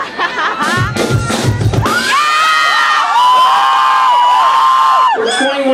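A loud crowd at a concert screams and cheers, with high shrill whoops and cries rising into sustained roaring excitement, close and energetic throughout.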